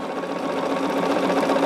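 A sewing machine runs continuously while quilt blocks are sewn, a steady, close mechanical whirring hum with a fast rhythmic chatter throughout.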